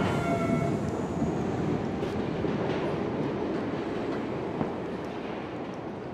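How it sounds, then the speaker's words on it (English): Train in the video game A Memoir Blue, a steady rolling rumble of wheels on track with faint rhythmic clacks and a soft high whine, moderately quiet and without voices. "that definitely looks like a train"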